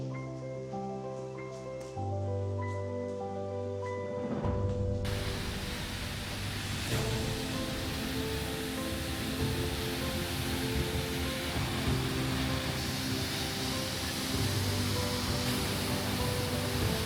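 A waterfall in Iceland roars as a steady, loud broadband rush of falling water that fills the whole stretch alone, preceded by a few seconds of tonal hum before the torrent swells in.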